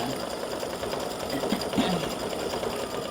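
A sewing machine stitches a small triangle clover pendant for St Patrick's Day, its motor whirring in a steady, close, continuous run with rapid needle ticks and no talk.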